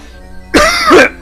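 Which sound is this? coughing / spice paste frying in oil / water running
coughing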